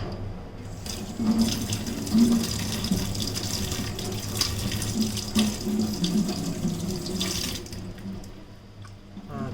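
Tap water runs steadily from a kitchen faucet into a sink as a raw lobster is rinsed clean, a continuous close splashing rush with brief shifts where the lobster moves under the stream.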